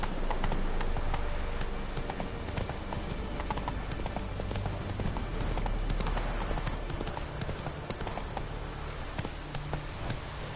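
Horse hooves clip-clop at a steady galloping rhythm in The Witcher 3 video game, close and continuous over a dense game ambience, with faint speech in the mix.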